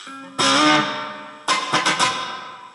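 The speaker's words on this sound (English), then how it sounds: "The more bouncy feel of the plate reverb." Bright electric guitar chords through a Yamaha DG Stomp plate reverb ring out, each one trailing into a dense, shimmering reverb wash that slowly decays, followed by a quick burst of strummed hits.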